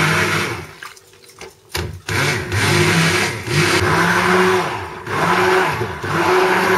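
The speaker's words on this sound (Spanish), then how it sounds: "con la batidora simplemente vamos a batirlo y hacer el puré" A hand blender whirs in steady bursts, its motor pitch rising and falling as it purees vegetables, loud and close.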